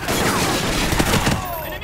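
Dense bursts of gunfire erupt in the video game Call of Duty: Ghosts, a loud, continuous barrage of overlapping shots that fills the scene.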